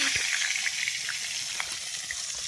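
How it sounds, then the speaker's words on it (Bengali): Bata fish fry in hot oil in an iron wok, a loud continuous close sizzle with occasional sharper pops and crackles. "তারপর এবার মাছগুলো কড়াইয়ের মধ্যে দিয়ে দেবো।"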